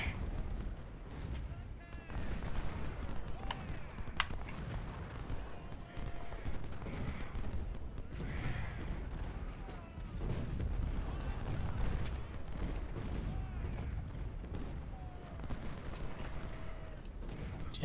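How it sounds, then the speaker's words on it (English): Battle sounds from a Civil War strategy game, Ultimate General: Civil War, with infantry volleys and booming artillery fire rolling continuously, crackling musketry layered over deep distant cannon thuds, with a voice talking over it. "Full infantry volley."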